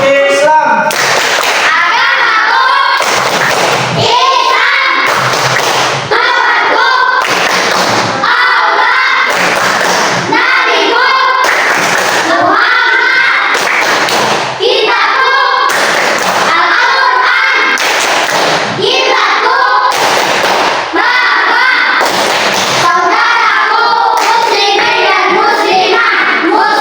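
Students in a classroom perform a rhythmic group clapping routine. Bursts of synchronized claps alternate with loud chanting voices, and the clapping and chanting continue steadily throughout.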